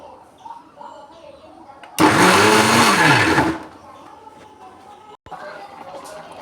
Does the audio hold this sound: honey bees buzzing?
no